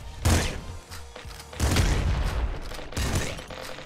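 Shotgun blasts boom in the roguelike game Nuclear Throne, three heavy bursts with crackling spread that decay into rumbling debris, loud and close.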